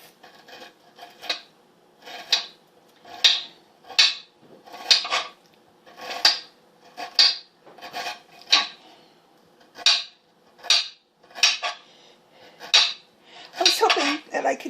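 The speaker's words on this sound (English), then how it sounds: "I can cut just really, really small pieces off of the ginger" Cheese knife chopping ginger into very small pieces, about fourteen crisp, even taps against a board in a steady rhythm, close and fairly quiet.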